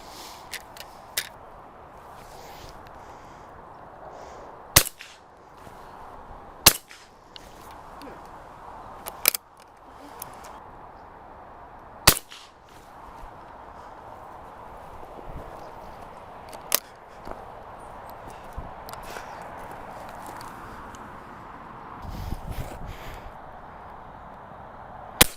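A 9mm garden gun fires at clay targets in a garden, giving about six sharp, sudden cracks spaced irregularly across a quiet background, with faint movement between shots.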